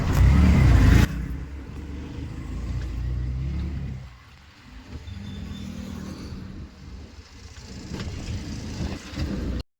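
A booked Ola taxi car approaches, a steady road rumble and engine drone with a loud gust at the start, dipping briefly midway before resuming, heard close without speech.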